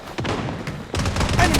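Gunfire rattles through a squad fight in the video game Blood Strike, with sharp repeated shots and bursts that come near and loud and overlap the game's voice callouts.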